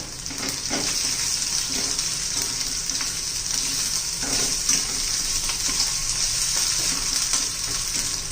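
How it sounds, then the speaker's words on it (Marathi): Onion and curry leaves sautéing in hot oil for a dry potato dish, a loud, bright continuous sizzle close up with occasional soft stirring scrapes, no voices. "फक्त ट्रान्सपरंट होईल इतकंच आपल्याला कांदा परतून घ्यायचा आहे. यात कढीपत्ता पण घालून घेऊया."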